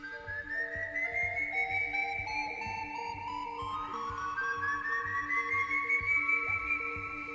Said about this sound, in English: You hear this whistling sound all around you from these hills.